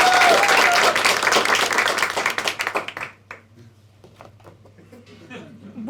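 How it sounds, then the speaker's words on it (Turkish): Studio audience at a Turkish stand-up comedy special breaks into loud, dense applause for about three seconds, then it thins into scattered claps and murmurs as the room settles. "Bunu diyenler alkışlasın."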